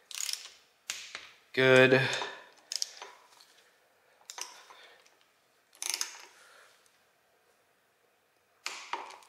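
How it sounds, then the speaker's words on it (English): Torque wrench tightening water pump bolts to 15 foot-pounds on a Toyota 2JZ engine build, giving several short, sharp mechanical clicks spaced a second or two apart, close by, with a brief spoken word among them. "So those are all torqued down to the OEM specs"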